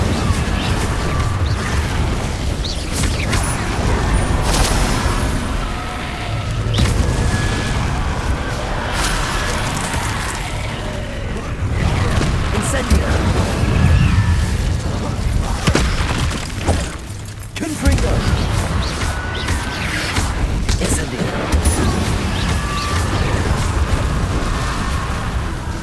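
Spells cast in the Hogwarts Legacy video game fire repeatedly, with loud booming blasts, crackling bursts and shattering impacts that follow one another with almost no pause.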